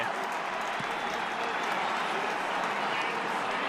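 Football stadium crowd at a Northwestern vs Iowa game, a broad sustained rumble of many voices and scattered clapping, even and loud throughout with no distinct individual speech.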